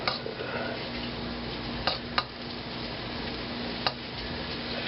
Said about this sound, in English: go ahead and cook up these eggs a little bit here